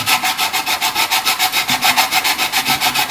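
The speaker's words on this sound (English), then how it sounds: "it's been rubbing down the DALEK in the wet and dry in the kitchen" Wet and dry abrasive paper rubs down a Dalek model in a kitchen, with quick, even back-and-forth strokes in a steady, close rasping rhythm and no voices.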